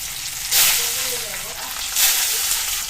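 Garlic hitting hot oil with whole cumin, cardamom and cinnamon, a loud close sizzle that swells in two bursts as the pan is stirred.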